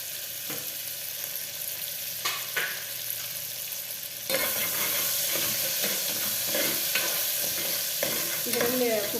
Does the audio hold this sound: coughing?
no